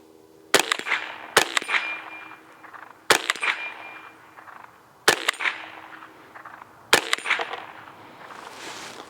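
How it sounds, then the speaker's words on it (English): Five loud rifle shots fire into a Caldwell universal brass catcher, each a sharp close crack with a short ringing decay, spaced roughly one to two seconds apart with quiet gaps between. "So we had 5 shots there"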